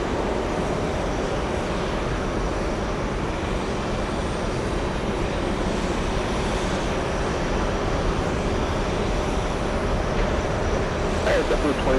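An airliner roars steadily on runway 22 left at JFK airport, a continuous broad engine rumble heard from a distance over the whole stretch, with radio chatter and voices faintly underneath.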